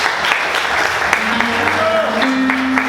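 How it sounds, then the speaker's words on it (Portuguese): A church congregation clapping loudly and steadily for a few seconds during a service, with voices mixed in among the applause. "Quantos podem aplaudir Jesus bem forte?"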